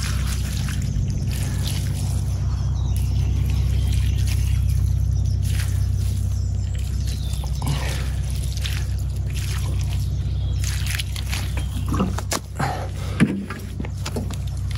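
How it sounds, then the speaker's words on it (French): Water pours from a watering can onto a freshly planted seedling in a vegetable garden, a steady soft trickle and splash lasting many seconds, close by, with faint handling sounds near the end. "Et maintenant un coup d'arrosoir"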